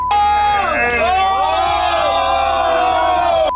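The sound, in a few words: group of friends cheering during a confrontation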